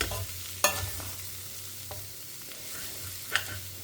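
Snake gourd stir-fry with moong dal and grated coconut being stirred in a pan, with a couple of sharp spatula scrapes against a low steady sizzle, close and fairly quiet.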